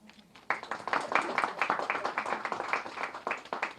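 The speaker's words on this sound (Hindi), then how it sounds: "तालियां थोड़ी कम बज रही हैं" A crowd claps steadily at moderate volume, a dense patter of many hands that starts abruptly and keeps going without cheering.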